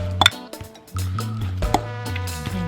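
A fork clinks against a bowl while mixing salmon patty ingredients, a few light metallic taps and scrapes close by, with soft mushy stirring in between.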